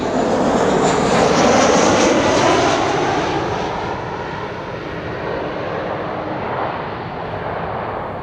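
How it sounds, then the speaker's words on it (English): A Georgian Airways airliner from Tbilisi arriving at Amsterdam Schiphol airport, a loud, close engine roar that peaks early and then eases slightly as the plane passes. "Georgian Airways, flight 9651, arriving from Tbilisi"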